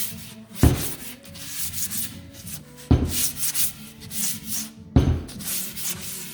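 Hand sanding on a painted wooden round sign gives repeated scratchy rubbing strokes, each opening with a sharp scrape and trailing off, close and steady with no talking.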